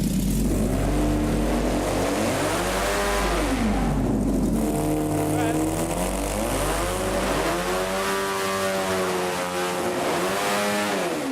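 An airboat engine runs hard through its belt drive, a loud continuous roar whose pitch climbs and falls in repeated revving sweeps for the whole stretch, close and without talk.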